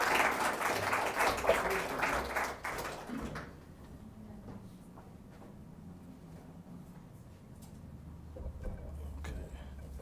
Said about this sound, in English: Big round of applause for our speaker tonight.